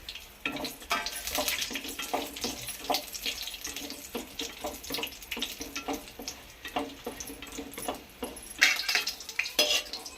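Cashews and raisins frying in ghee with steady stirring, a spoon scraping the pan in repeated strokes over a continuous close sizzle, for a shavige payasa.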